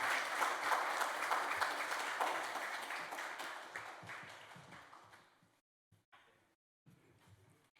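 An audience at a screening and conversation applauds to welcome two speakers, steady clapping that fades out over several seconds into scattered, faint claps.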